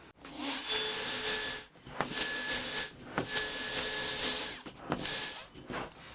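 A power drill on low speed, in non-hammer mode with a 5.5mm bit, bores into brick in three sustained grinding bursts separated by short pauses, loud and close with no talking.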